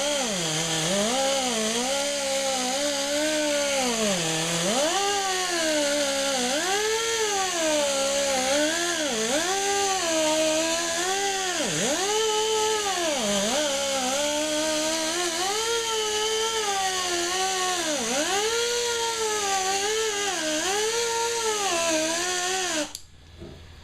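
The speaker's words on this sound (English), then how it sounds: "I'm just going to smear it around like so, and then go at the final polishing here" A vehicle headlight is buffed with polishing compound by a power polisher that whines loudly and without a break for about twenty seconds, its pitch rising and dipping as the load changes, then cutting off at the end.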